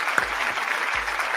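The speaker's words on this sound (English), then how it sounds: "let's give him a round of applause" An audience applauds in a brief steady burst of many hands clapping together, moderately loud and even, with low thumps underneath.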